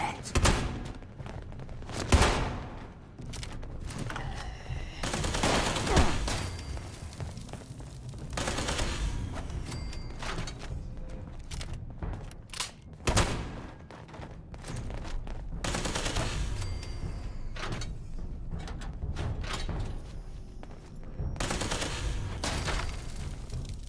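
Gunfire from the video game Fallout 76 during a live event comes in repeated loud bursts and volleys of shots, spread across the whole stretch amid steady game sounds.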